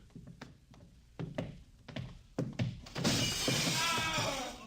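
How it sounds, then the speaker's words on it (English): In a radio drama effect, photographic glass plates are smashed: scattered thuds and knocks build into a loud, sustained crash of shattering glass that fills the last seconds. "The plates, the photographic plates, they're all smashed."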